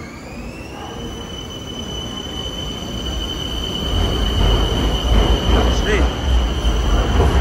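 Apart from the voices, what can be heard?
train departing in Bangkok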